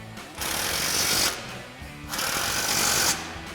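An 18 millimeter socket on a powered wrench drives the bottom mounting bolts of a replacement front bumper on a 2021-2023 Ford F-150 in two loud, close, roughly one-second whirring bursts with a short gap between them.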